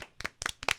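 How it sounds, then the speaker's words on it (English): A few people clap in three quick bursts of two or three sharp hand claps each, close and lively, at a live music show. "round of applause, everyone"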